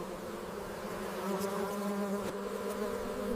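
Honey bees fan their wings inside a hive, making a steady, close, droning buzz with a few brief higher whines rising over it.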